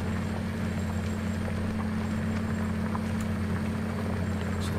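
A John Deere 8030 tractor engine in the video game Farming Simulator 19 runs with a steady, low droning hum and faint clicks in the background, constant and unchanging throughout.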